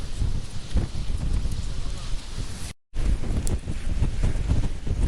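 A strong gale buffets a camper van parked by a windy lake, producing a continuous loud roar with heavy rumbling gusts up close and one brief cutout partway through.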